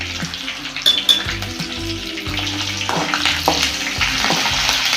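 Mustard seeds and cumin crackle and fry in hot oil in a pan, a dense, close sizzle with rapid popping and spitting bursts throughout, no talking.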